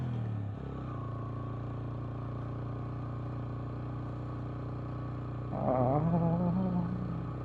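A motorcycle ridden on a forested mountain road to Thandiani Top in Pakistan, a steady engine drone throughout that swells near the end as someone talks over it.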